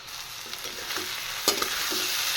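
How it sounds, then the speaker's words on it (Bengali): Prawns fry with spices in a pan, a close, steady sizzle with several light spatula stirs and scrapes, including one sharper clack midway. "আমি চিংড়িগুলো দিয়ে দিচ্ছি এখন আমি ভালো করে ভাজা ভাজা করে নেব"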